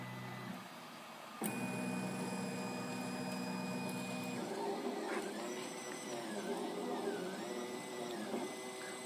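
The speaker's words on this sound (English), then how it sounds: "your printer now is working" An i3 Plus 3D printer runs a print with steady motor whirring, high stepper whines and warbling tonal sweeps as the head moves, heard close up with no talking.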